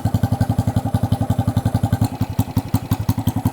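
Honda Grom motorcycle with a T-Bolt cam idling low and choppy, a steady run of deep thudding exhaust pulses up close with slight unevenness in the rhythm, no voices.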